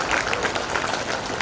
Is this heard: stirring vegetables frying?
no